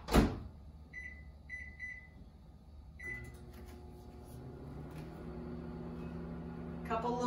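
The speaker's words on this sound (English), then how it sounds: "Now we need to put this back in the microwave for 1 minute." A few quick beeps and a door clunk, then a low steady hum of a microwave oven heating a pizza in a mug starts running, faint and close.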